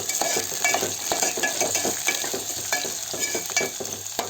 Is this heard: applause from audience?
no